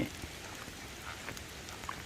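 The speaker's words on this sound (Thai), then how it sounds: "ฝนตกครับ" Steady rain falls outdoors in the forest, a dense, even patter with scattered drops, fairly faint.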